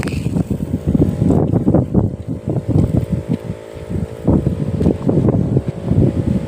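Strong wind across a groundnut field buffets the microphone in loud, rumbling gusts that rise and fall continuously.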